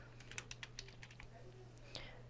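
Computer keyboard typing as text is entered into an overlay text box, heard as a quick run of faint, close key clicks in an uneven rhythm over a low steady hum.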